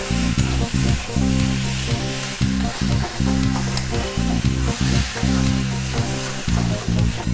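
Masala paste with turmeric being sautéed in a pan for a vegetarian elephant foot yam curry, a steady close sizzle under loud, rhythmic low thumps of stirring, with no voices.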